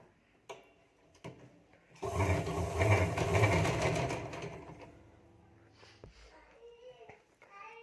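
A sewing machine stitches along a blouse seam in one loud burst of rapid needle clatter lasting a few seconds, preceded and followed by quieter handling sounds and brief talk.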